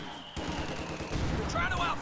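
Rapid machine-gun bursts from Company of Heroes 2 rattle loudly across the short span, with overlapping shots and battlefield noise thickening toward the end.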